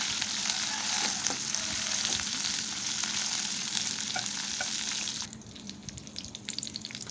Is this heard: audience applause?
no